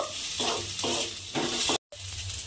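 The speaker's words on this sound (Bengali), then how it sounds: "টমেটোটা আমি এর মধ্যে দিয়ে একটু নাড়াচাড়া করে নেব।" Chopped tomato frying in a pan while being stirred, giving a steady sizzle with four or five short scraping stirs, a brief silent gap near the end, then sizzling resumes; no talking.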